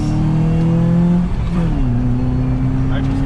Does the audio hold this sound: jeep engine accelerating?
yes